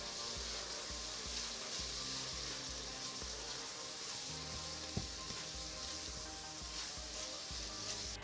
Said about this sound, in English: we're gonna cook and stir this for a couple of minutes